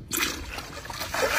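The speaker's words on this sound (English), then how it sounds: "add water." Water poured into a pot of blended ingredients for a fish stew with rice, giving a short, close splashing and sloshing burst that continues steadily through the moment.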